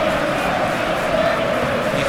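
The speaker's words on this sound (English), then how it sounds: "Newcastle United's away fans applauding the awareness by John Dale Thomason to try and play in John Barnes" Newcastle United away supporters applauding inside a football stadium during a 1997/98 Premier League match against Liverpool, a steady, dense wash of distant crowd noise and clapping with no clear individual voices.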